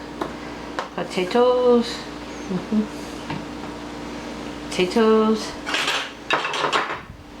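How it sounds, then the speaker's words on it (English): Plates and serving utensils clatter and clink in short bursts as potatoes are dished up from a Rival roaster oven of corned beef brisket and cabbage, while someone talks throughout. "You take a plate, like this, and you get some potatoes."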